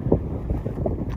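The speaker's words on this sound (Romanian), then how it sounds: "Știu că bate vântul" Gusty wind buffeting an outdoor microphone at a scenic lookout in Bucovina, a continuous loud, low rumble with uneven surges as the gusts hit.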